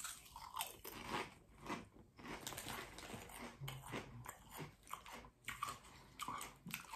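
Close crunching and chewing of Strong Crisps jalapeño and cheese potato crisps, with repeated bites and steady mouth noises over several seconds, recorded quietly.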